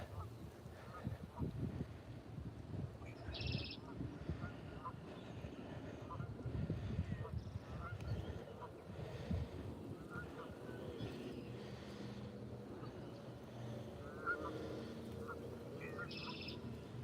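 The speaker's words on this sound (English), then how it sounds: "These are the geese that you hear that are calling me out." Geese calling with honking cries on a lakeside woodland walk, mixed with steady outdoor ambience and wind, while a person talks over them throughout.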